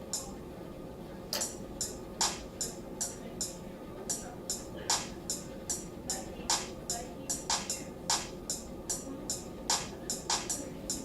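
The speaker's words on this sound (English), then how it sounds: "So I just filled up some of the empty spaces with the claps." A hip hop beat with sharp clap hits layered in, snapping at a steady, regular rhythm over a low, busy backing groove.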